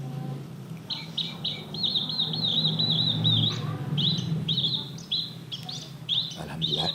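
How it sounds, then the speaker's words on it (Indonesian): A bird sings in rapid repeated twittering phrases, close and clear, above a low background rumble during a bicycle ride, with brief pauses between bursts. "Terganggu dengan suara burung atau justru menikmati?"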